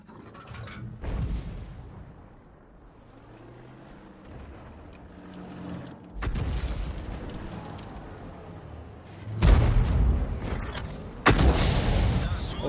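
Tank guns fire in a World of Tanks battle with a GW Tiger self-propelled gun, several sharp booming shots with long rumbling tails spaced seconds apart, loud and close, the last two heaviest.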